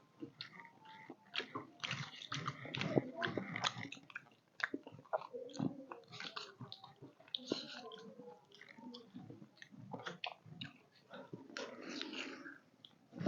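Close, wet chewing and biting of kheer and gulkand rasmalai, soft smacking mouth sounds and clicks coming in uneven bursts, with brief voice sounds mixed in.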